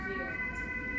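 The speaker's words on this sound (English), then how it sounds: "Ambulance, yeah, ambulance." An ambulance siren wails as a faint, steady tone in the background, distant and continuous across the short span.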